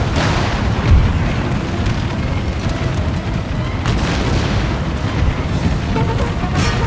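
Cannon artillery in an Empire: Total War (Darthmod) battle with Spain: a dense, loud roll of deep booms and blasts rumbles on without a break for several seconds.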